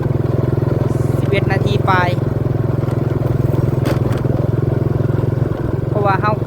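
A vehicle moving along at low speed gives a loud, steady engine drone and rumble throughout, while someone talks over it now and then.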